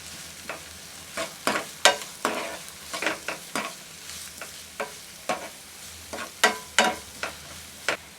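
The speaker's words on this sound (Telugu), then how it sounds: "వీటిని ఒకసారి ఇలా ఫ్రై చేసుకోండి." Carrot, cabbage and garlic pieces frying in a pan for veg manchurian, heard as a series of sharp, close spatula scrapes and stirring clatters every half second or so over a faint sizzle, with no voices.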